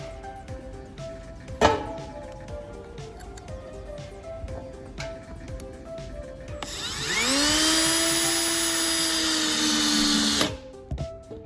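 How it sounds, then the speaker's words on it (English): A power drill drives screws into a blue roll holder shelf: a faint tap early on, then a loud, steady whirring run of about four seconds that stops abruptly. "you're going to screw into these two holes at the bottom to give it some extra strength"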